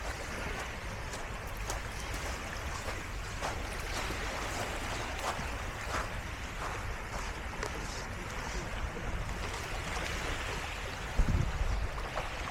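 Sea waves at Wu Kai Sha beach in Hong Kong wash in a steady, soft roar with faint wind, moderately distant and continuous, no voices.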